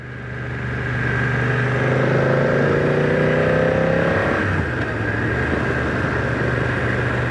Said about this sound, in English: I do like that throaty growl from the engine.